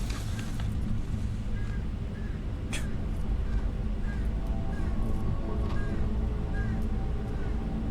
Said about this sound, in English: There's a crow outside having a problem.